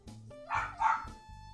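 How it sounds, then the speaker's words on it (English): A dog barks indoors, two muffled yips off to the side under a low background hum, heard faint and somewhat distant. "dog is barking"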